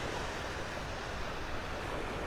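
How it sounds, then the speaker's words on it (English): Ocean surf on Vanderbilt Beach in North Naples, Florida makes a broad, steady rushing wash with no distinct breaks, moderately loud and slightly wind-touched throughout. "Can you listen to those waves and not want to be here listening to those sounds?"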